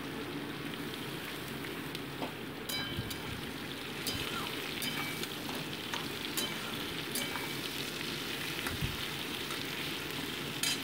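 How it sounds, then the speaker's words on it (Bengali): Chopped onion and green chili frying lightly in hot oil in a pan, a steady close sizzle with scattered crackles and pops running throughout. "দিয়ে একটু হালকা ভেজে নিচ্ছি পেঁয়াজ লঙ্কাটাকে।"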